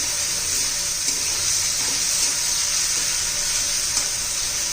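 Masala sautéing in a pan with a steady, bright sizzle that hisses evenly throughout, broken by a few faint stirring scrapes, close and fairly loud with no voices.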